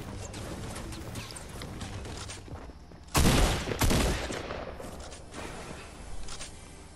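Video game gunfire erupts in a chaotic firefight, with bursts of rapid shots and a loud heavy volley midway, layered over busy in-game action and effects.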